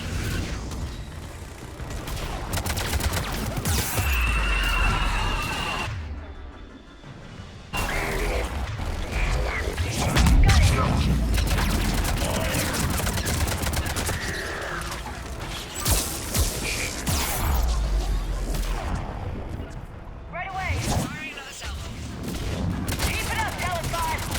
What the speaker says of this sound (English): Missiles are on. Understood! Missiles away.